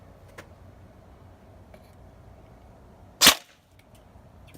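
A single sharp shot rings out from a Bolt BRSS Mk18 electric recoil airsoft gun loaded with 0.20 g BBs and an 11.1 V LiPo, fired once against quiet background hiss and a few faint ticks.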